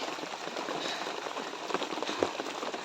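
Moderate rain falling outdoors, a faint, steady hiss of drops on surfaces with a few scattered louder patters, continuous and without any voices.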